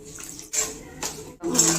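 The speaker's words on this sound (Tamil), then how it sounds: "ஜீனி நினைற அளவுக்கு தண்ணி ஊற்றினா போதும்" Water poured from a cup onto half a cup of sugar in a pan for sugar syrup, heard as three short splashing pours with brief pauses between them, close and fairly quiet.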